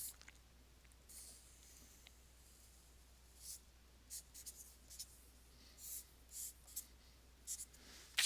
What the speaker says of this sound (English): Let me draw a couple more.